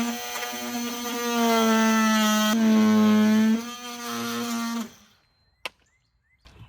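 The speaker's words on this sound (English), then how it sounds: "I'll cut off this little extra piece with the trim tool" A handheld oscillating multi-tool trims a small extra piece of shed soffit, giving a steady loud buzzing drone that wavers in pitch for about five seconds, then stops, followed by a few faint knocks.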